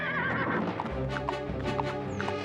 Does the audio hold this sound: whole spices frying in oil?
no